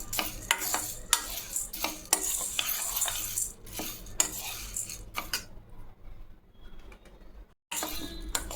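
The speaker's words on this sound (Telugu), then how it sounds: "జొన్నలను తీసుకొని ఇలా కాసేపు వేయించాలి." Dry jowar (sorghum) grains are stirred and tossed in a hot pan, giving close rattling scrapes and rustling clusters with short pauses, a quieter gap near the end, and no talk over it.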